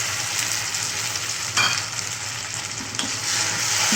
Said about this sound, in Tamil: தக்காளி ஆட் பண்ணி நல்லா வதங்கணும்.